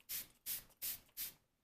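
Four quick hisses of lavender flower water facial mist spritzed from a spray bottle, evenly spaced, close and fairly soft, with no talking.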